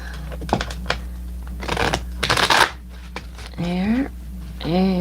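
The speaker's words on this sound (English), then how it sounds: "And give it a few more shuffles." Tarot cards are riffled and shuffled in quick, crisp bursts up close, with a person speaking briefly between the shuffles.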